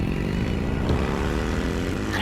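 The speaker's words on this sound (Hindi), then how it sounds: "और फिर से उसने अपनी बाइक की स्पीड फुल कर दी।" A motorbike revs hard to full speed nearby, a steady loud engine roar with rising harmonics across the whole moment.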